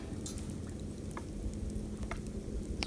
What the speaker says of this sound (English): Now I can hear a subtle sizzle.